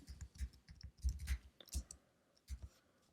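Computer keyboard typing during text editing in Final Cut Pro, a quiet cluster of key clicks in short uneven bursts, close and soft, with brief pauses between runs.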